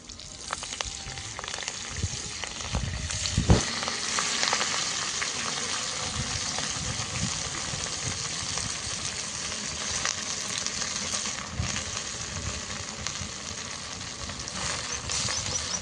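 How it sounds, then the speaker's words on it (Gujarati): Fenugreek greens hitting hot oil in a pan for methi paneer, giving a loud, dense, continuous sizzle close by with a sharp crackle early on and occasional stirring, no voices. "અને હવે આ જ તેલમાં આપણે ભાજી ઉમેરી દઈશું."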